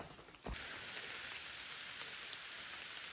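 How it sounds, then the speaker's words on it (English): Steady rain hisses continuously on the Appalachian Trail near Stony Brook Shelter, a dense wash of drops falling on surfaces, with a single sharp knock early on. "So it's raining."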